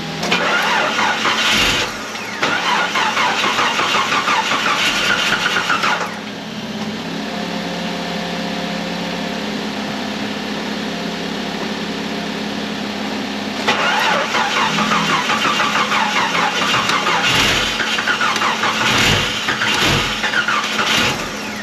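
An old winter beater car's engine is cranked and started through a grounded starter relay that bypasses the neutral safety switch, with loud bursts of cranking at the start and end around a steadier running drone in between.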